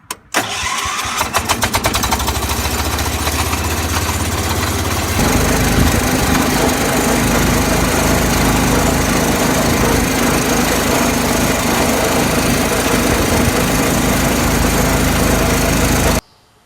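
A 1978 John Deere 208 lawn tractor engine stutters through a few uneven firing pulses, then settles into a loud, steady running drone that holds close and constant until it abruptly stops.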